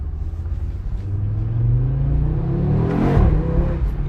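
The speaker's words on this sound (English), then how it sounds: "Man, the 5-cylinder sound is unmatched." A 2024 Audi RS3 8Y five-cylinder engine revs under acceleration, a steady rising drone heard from inside the car, loud and continuous with the pitch climbing before a brief surge near the end.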